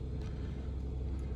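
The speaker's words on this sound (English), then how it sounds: "I'm waiting for the truck to warm up" A truck engine idles while warming up, giving a low, steady rumble that stays close and even through a brief moment with no talking.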